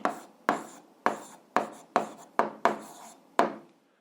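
Pen strokes on paper as an answer is written by hand: about eight short, distinct scratching bursts in an irregular rhythm, close and clear, then silence.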